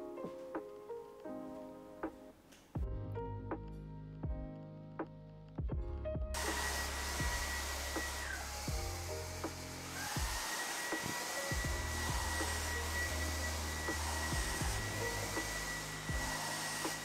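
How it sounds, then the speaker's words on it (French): A vacuum cleaner switches on with a loud, steady whine after a few seconds of clunks and knocks, then keeps droning close by while dusting a living room. "on va donc passer l'aspirateur et bien dépoussiérer tout ça."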